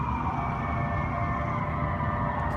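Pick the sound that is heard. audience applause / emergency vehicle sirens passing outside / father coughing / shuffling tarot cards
emergency vehicle sirens passing outside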